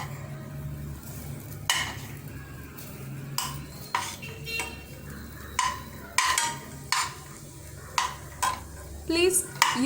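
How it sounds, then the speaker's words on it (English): Butter cubes melting in a heated pan, giving a faint sizzle beneath repeated clanks and scrapes of a utensil against cookware. "Now allow the butter to melt."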